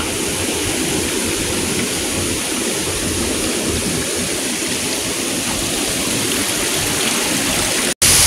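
Dikisit Falls in Aurora province sends down a constant, loud rush of water, a dense, unbroken roar that holds steady before a brief cut near the end.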